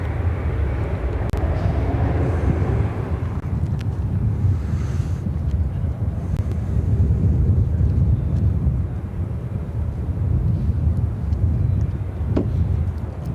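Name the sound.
Boeing 787 Dreamliner arriving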